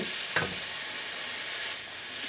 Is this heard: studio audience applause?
no